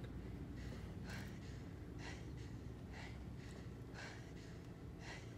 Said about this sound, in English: I like how they always open with like someone heavy breathing